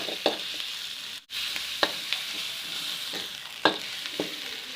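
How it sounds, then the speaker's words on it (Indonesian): Bruised lemongrass, galangal and spices stir-frying in oil, a soft steady sizzle with occasional sharp spatula clicks against the pan and a momentary dropout, quiet and close. "Kita tumis sampai harum."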